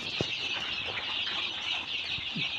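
A crowd of tiger breed chicks peep continuously in a dense, high-pitched chorus, close and steady, with a few soft thumps and no talking.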